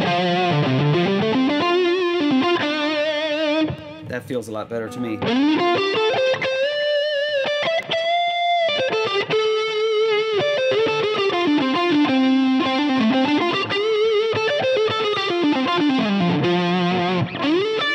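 Electric guitar played through distortion, with sustained, gritty bent notes and sliding lead phrases ringing loud and thick; a brief pause midway, and someone speaks briefly near the end.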